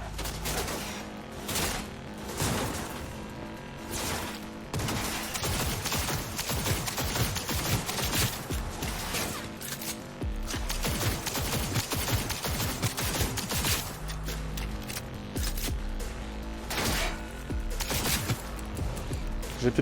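Rapid, dense bursts of automatic gunfire from a video game, loud and nearly continuous with short gaps and heavy low-end thumps, along with occasional speech.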